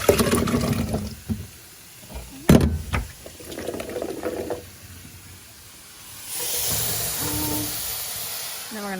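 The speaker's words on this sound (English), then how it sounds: "I'm going to strain my potatoes and also add them at this time" Boiled potatoes are tipped into a strainer while making gobi aloo, sending a steady hissing rush of water and steam into the sink after a few brief clatters and soft talk.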